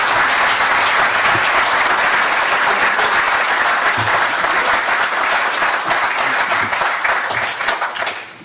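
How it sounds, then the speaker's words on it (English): A lecture audience bursts into sustained, dense applause, many hands clapping loudly and steadily throughout, tapering slightly at the very end. "Let's give a round of applause."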